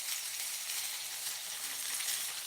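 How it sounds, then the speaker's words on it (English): Peppers and onions frying on a reissued Wagner Ware 1148 long cast iron griddle, a steady close hiss of sizzling that holds evenly throughout with no voices. "Oh, let's put some of these peppers and onions in there."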